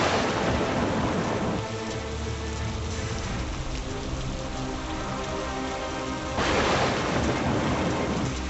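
Steady heavy rain pours down in a city street in Panipat, a dense, continuous hiss that swells louder near the end, with no voices over it.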